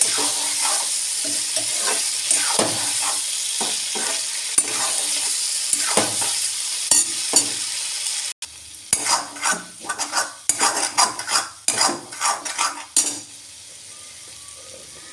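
Potato curry stirred in a frying pan with a metal spoon, steady scraping and clinking strokes over a constant sizzle, close and fairly loud, the strokes growing choppier and more pronounced in the second half.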